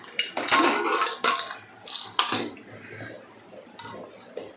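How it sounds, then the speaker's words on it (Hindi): Clattering metal clanks and scrapes as a pressure cooker lid is worked loose and lifted, in a few sharp bursts with quieter rattles between. "कुकर का ढक्कन खोलते हैं।"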